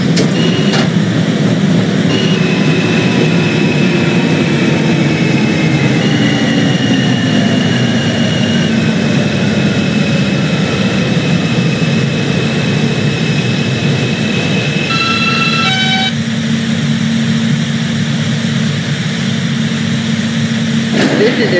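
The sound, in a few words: subway train running, train simulator game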